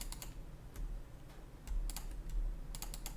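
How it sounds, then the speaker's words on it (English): Keys on a computer keyboard are pressed in short clusters of light clicks, close and fairly faint over a steady low hum. "hit Q on the keyboard"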